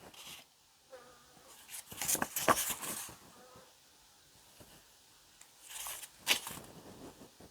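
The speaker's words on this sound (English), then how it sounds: "there is a bee in here" Bee buzzing indoors, a thin erratic drone that swells loudly in two close passes, fading between them into a quiet room.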